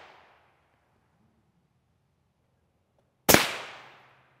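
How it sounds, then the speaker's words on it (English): A single loud rifle round strikes an NIJ Level IV / RF3 armor plate tile, a sharp crack with a ringing decay, preceded by near silence and the tail of an earlier shot. "Good shooting, Deacon."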